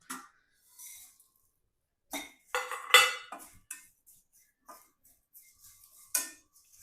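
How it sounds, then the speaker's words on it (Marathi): Spices being dry-roasted in a pan for chicken lapeta, heard as sparse clinks and scrapes of a spoon against the metal pan with short bursts of stirring separated by quiet gaps. "आपण आता हे मसाले पूर्णपणे थोडेसे भाजून घेणार आहोत।"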